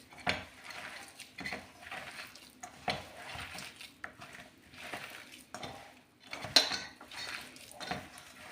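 Gram flour batter with potatoes for kadhi pakoras is mixed in a bowl, giving soft irregular scraping and clinking strokes, close and fairly quiet, with no talk.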